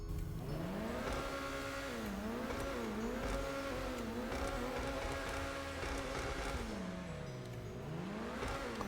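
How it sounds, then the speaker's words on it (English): A Cheval Taipan sports car engine in GTA Online revs up and down repeatedly, pitch rising and falling in smooth sweeps, loud and continuous with a synthetic, game-like quality. "Let's see how this thing sounds."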